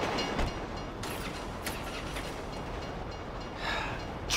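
A train rumbles past in the video game GTA V, a steady broadband roar with faint rhythmic clatter holding at the same level throughout, loud and close, with no talk over it.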